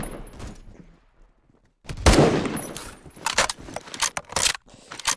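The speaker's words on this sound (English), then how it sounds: "someone is shooting me" Roblox Phantom Forces gunfire comes as sharp, close cracks, first a loud shot after a quiet gap, then several uneven reports spaced through the rest of the moment.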